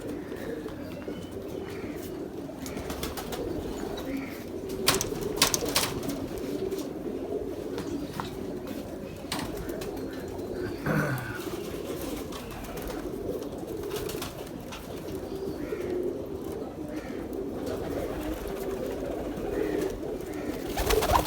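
Pigeons coo steadily throughout, soft rolling calls repeating over a constant low background, with a few clicks and rustles mixed in.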